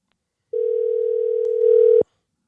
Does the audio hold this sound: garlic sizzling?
no